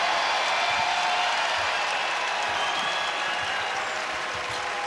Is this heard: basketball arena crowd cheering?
yes